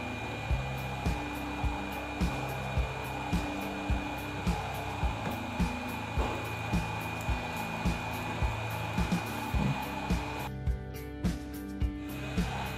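Hot air rework gun heating solder on a micro USB charging jack of a Bluetooth speaker, a steady close airy hiss with a constant tone, punctuated by rhythmic soft ticks, with no talking.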